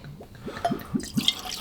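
Old Grand Dad 114 cask-strength whiskey glugs from its bottle in a few short, rhythmic liquid pulses, close and moderately loud, with no talking.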